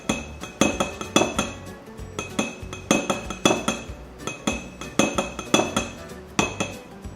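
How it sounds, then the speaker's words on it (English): An oil and cornstarch lotion mixture stirred in a container, a utensil tapping and clinking against the sides in quick rhythmic bursts of bright clinks, close and clear, with no talking. "Alright, I'm gonna stir this up."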